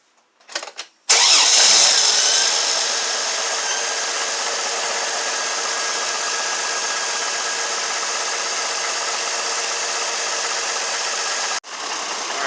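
A GMC Envoy engine, being checked for a misfire, cranks and catches after a brief rattle, then settles into a steady, close idle that runs on unbroken until a short cut near the end.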